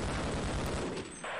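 An automated turret in Half-Life fires a rapid burst of gunfire, dense and loud for about a second before tapering off.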